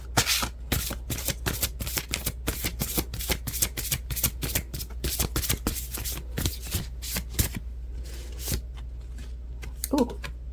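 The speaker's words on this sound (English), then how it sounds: "Let me pull a little affirmation card for you." Affirmation cards from a tarot deck being shuffled by hand, a steady run of quick riffling flutters close up for most of the stretch, then slowing to a few soft card slaps near the end, with no talk.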